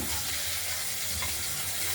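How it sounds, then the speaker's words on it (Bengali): Tomatoes fry in a pan for a rohu fish curry with potatoes, a steady close sizzle and crackle with no talk. "টমেটো দিয়ে দিলাম কিছুটা, এটা আমরা ভেজে"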